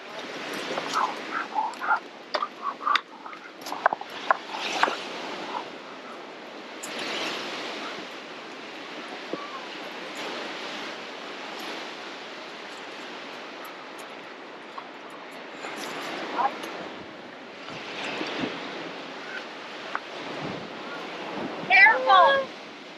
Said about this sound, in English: It's too windy up there.